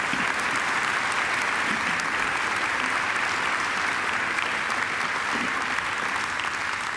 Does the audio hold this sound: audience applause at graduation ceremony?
yes